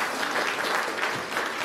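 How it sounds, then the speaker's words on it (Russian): Steady audience applause at the closing of a winter festival at an arts institute, a dense, even wash of clapping from a large crowd throughout. "Аплодисменты, пожалуйста."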